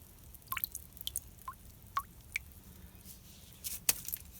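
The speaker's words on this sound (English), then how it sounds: "So you let all the water drip out of the ice." Water drips from melting ice into collected liquid during sugaring season, scattered soft plinks and tiny splashes at an irregular pace, close and quiet, with no speech.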